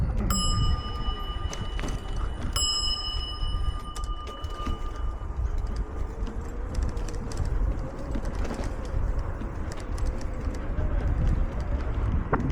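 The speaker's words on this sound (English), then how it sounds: "Ring the bell." A bicycle bell rings twice with bright metallic dings during a morning bike commute into Leicester, over a steady wash of road and wind noise.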